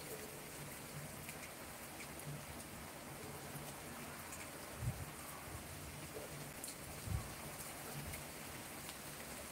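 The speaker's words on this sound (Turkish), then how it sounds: "Yine Hollanda'da güzel yağmur yağıyor." Steady rain falls across a Dutch town in the Netherlands, a continuous even hiss of drops on surfaces with a couple of brief heavier spatters, no voices present.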